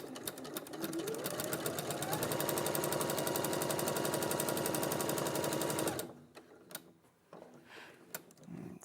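A sewing machine runs steadily for about six seconds, stitching around the outside edge of a small appliqué piece along a drawn line, with a fast, even mechanical chatter that stops abruptly into quiet room noise and faint movement.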